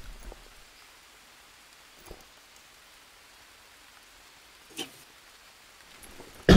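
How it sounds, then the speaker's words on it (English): Rain in the survival video game Green Hell, a soft steady hiss of falling drops with a few faint isolated taps and a sharper knock at the very end, no talk. "I need this rain to clear up."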